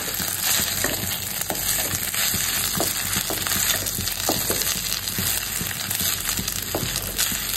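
Zarda sweet rice cooking in a pan, a loud continuous sizzle and frying hiss with scattered stirring scrapes and small clinks throughout, close to the pan.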